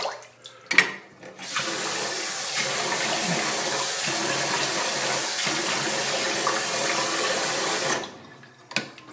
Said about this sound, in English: Rinse the soap off and then get some aftershave on.